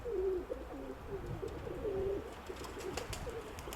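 Pigeons cooing in a home loft, several soft repeated coos close by over a quiet background, with light rustling and a few small clicks near the end.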